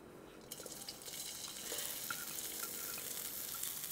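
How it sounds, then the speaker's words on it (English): Chilies and garlic hit a pan on high heat for Thai pad ka pao, setting off a fairly quiet sizzle that starts about half a second in and swells into a steady hiss. "Now, chilies, garlic go in."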